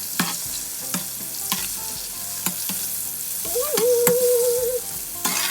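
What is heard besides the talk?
oysters deep frying in oil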